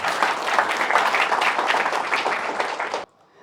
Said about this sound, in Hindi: थोड़ा तालियां बजा ली अपने आप के लिए।